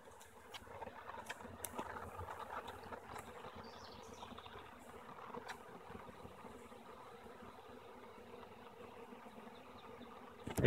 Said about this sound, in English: This would be my eighth swarm for the season.